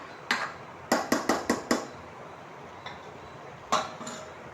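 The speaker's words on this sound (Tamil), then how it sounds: "அது ஹீட்லேயே இருக்கிறனால அதை அப்படியே தூக்கி அதை மேலே வைக்கிறேன்" A heavy, hot kadai used for mushroom gravy is lifted and set on top of a pot for dum, giving a quick run of five or six loud metallic clanks and knocks, then a pause and two more clinks close by with no talking.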